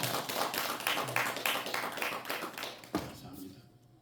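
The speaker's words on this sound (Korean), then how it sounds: "우리 수고하신 반주자님께 박수." A congregation in a church gives a short burst of clapping for the accompanist, a rapid patter of hands that fades within about three seconds, with a voice heard around it.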